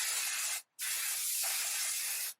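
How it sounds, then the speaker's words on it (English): Chi shine spray misted onto natural hair in two close, steady hissing bursts, a short one followed after a brief pause by a longer one, with no talking. "Put a little bit of shine spray."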